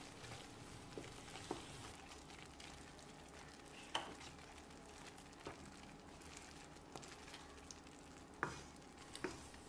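A thick Mysore pak mixture of ghee and sugar is stirred in a pan on the stove, giving a faint soft sizzle with occasional light scrapes and clicks of the spoon against the pan.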